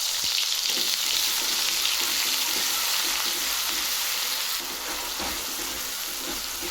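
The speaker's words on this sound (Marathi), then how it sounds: "त्यामध्ये थोडीशी जिरे मोहरी टाकू आणि आपण हे टोमॅटो आणि कांद्याची पेस्ट बनवली होती ती यामध्ये टाकू" Tomato-onion paste with cumin and mustard seeds frying in hot oil for a matar paneer curry, a loud, steady close sizzle with faint stirring scrapes underneath, easing slightly partway through.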